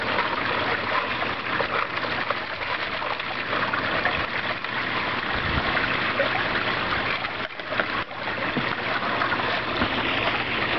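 A gold recovery machine runs with water circulating through its tub, a loud, steady rushing and churning of water and motor that continues without a break.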